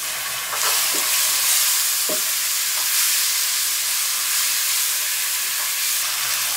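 Spices and tomato paste for a beef curry fry in oil in a pot, a loud, close hiss and sizzle with occasional scraping stirs across the top.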